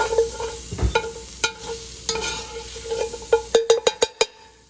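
Flour cooking with onions, carrots, mushrooms and celery in a beef stew pot: soft stirring scrapes over a low sizzle, then a quick run of sharp utensil knocks against the pot near the end, with no talking.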